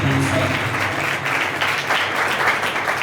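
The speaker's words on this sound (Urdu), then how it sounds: "آئیے اس عظیم بادشاہ کے لیے زوردار تالی بجائیں۔" A church congregation at a Sunday service claps loudly in a continuous, even wash of applause that holds steady from start to finish, with faint voices beneath.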